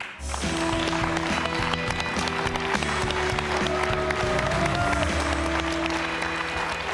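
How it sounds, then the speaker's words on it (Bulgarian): A studio audience gives sustained, dense applause for guests on a Bulgarian talk show, loud and steady throughout, with music playing underneath. "Моля вашите силни аплодисменти за Кристина и Константин."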